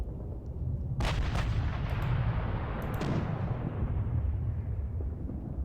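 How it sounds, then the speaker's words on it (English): Mortar fire in the wargame Panzer Campaigns Poland 39: a couple of sharp booming reports early on, then a long rolling low rumble that slowly fades, fairly quiet and with no talk. "Mortars and stuff."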